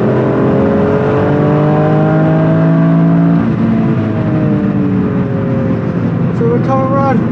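Toyota GR Yaris accelerating hard on a race track during a trackday, the engine note loud and close, rising steadily through the revs, then dipping briefly at a gear change before climbing again.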